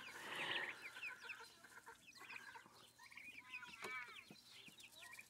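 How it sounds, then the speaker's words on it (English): Hens cluck and chatter among chickens, ducks and turkeys, with a burst of busy calls at the start and scattered squawks afterward, fairly close and moderately loud. "We got a couple hens making hen sounds instead of baby chicken sounds"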